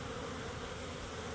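Dense, steady buzzing of many honey bees close by at a hive during winter feeding with sugar syrup, continuous for the brief moment heard.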